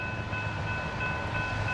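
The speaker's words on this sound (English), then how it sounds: "Train here in Montour," Freight train rolling past in Montour, Iowa, a steady continuous rumble with faint sustained tonal lines, even in loudness throughout and without voices.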